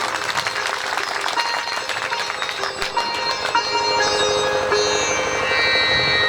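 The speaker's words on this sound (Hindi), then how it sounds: "ऐसे हमारे अरविंद भैया के लिए आप एक बार जोरदार ताली बजा दें" An audience at a Bhagwat Katha religious gathering claps for the accompanying musicians, a sustained crowd applause mixed with lingering instrumental tones and some noise, loud and continuous.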